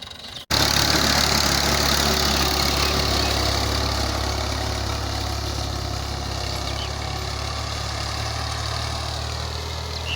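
An Al-Ghazi tractor engine drones steadily while pulling an 11-tine cultivator, a loud, continuous low rumble after a brief quieter start, with no voices over it.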